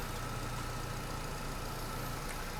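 A car engine idles steadily while a DC-to-DC charger tops up a lithium battery for a campervan from the alternator, a constant low rumble and hum with no pauses or talk.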